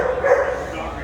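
A dog lets out a short, yipping bark outdoors at a political campaign event in Minneapolis, brief and fairly close, with people talking around it.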